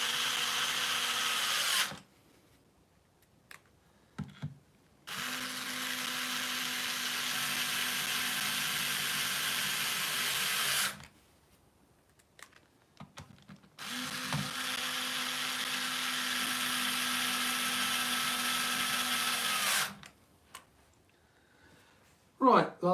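Cordless power drill driving screws during a vehicle fit-out, three long sustained whirring runs of several seconds each with quiet gaps, small clicks and handling noise between them.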